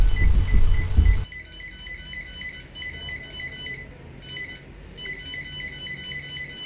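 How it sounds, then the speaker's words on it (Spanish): Steady, repeated electronic beeping from a virus-infected computer in a fast rhythm, loud at first over a brief burst of noise, then continuing evenly on its own. "Todos los bip bip bip bip bip bip bip que hace esta computadora."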